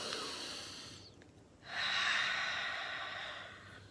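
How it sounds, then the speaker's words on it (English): During a guided anxiety-relief meditation, a slow deep breath is drawn in audibly close to the microphone, followed after a brief hush by a longer airy exhale. "Breathing in."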